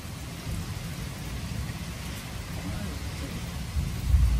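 Steady heavy rain from a big thunderstorm pours down continuously, with low rumbling underneath that swells louder near the end.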